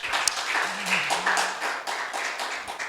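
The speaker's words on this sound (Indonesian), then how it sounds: "Tepuk tangan buat Tuhan kita." Church congregation clapping during a sermon, a crowd of hands producing irregular bursts of claps with a faint voice briefly heard underneath near the start.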